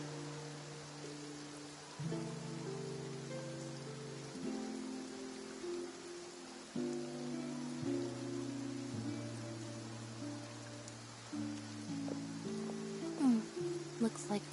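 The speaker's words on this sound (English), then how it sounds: "Looks like rain." Rain falls over the city of Fontaine in the video game Genshin Impact, a soft, continuous hiss sitting beneath sustained musical tones throughout.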